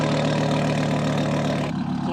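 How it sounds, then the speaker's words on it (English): A Mercedes CLS 63 AMG's aftermarket exhaust idles with a loud, steady low rumble close by, then the sound drops off sharply near the end. "The only thing that gives it all away is your fancy pants exhaust."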